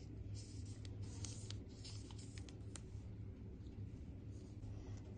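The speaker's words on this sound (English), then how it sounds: "you will fold the right corner in such a way that it touches the" Paper is folded and creased into a corner for an origami handbag, with soft scraping and crinkling rustles over a low, steady room hum.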